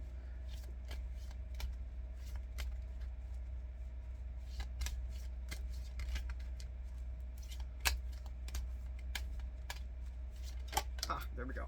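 Tarot cards being shuffled in a steady, quiet riffle of soft clicks and flutters over a low constant hum, with a few sharper snaps near the end.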